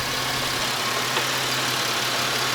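A car idles steadily after a cracked radiator repair, giving a low, even engine hum with no revving, heard nearby in a quiet setting.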